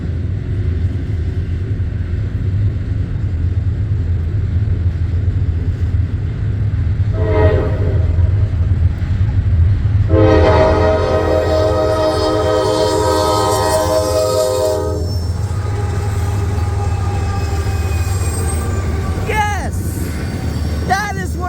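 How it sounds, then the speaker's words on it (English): A westbound Norfolk Southern freight train, 25P, passing through Homestead with a heritage locomotive trailing, its steady low rumble carrying a short horn note and then a long, loud chorded horn blast, with voices talking throughout. "So we're now going to take a look at my shot of 25P heading westbound through Homestead with the Interstate Heritage Unit trailing second."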